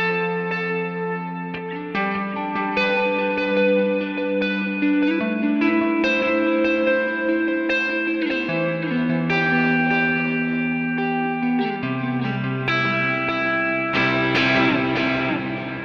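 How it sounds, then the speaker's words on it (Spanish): An electric guitar played through the digital delay of a Nux MG-300 multi-effects unit, sustained chords and single notes trailing into repeating dotted-eighth echoes with reverb, loud and continuous without talk. "les recomiendo el digital delay en corchea con puntillo"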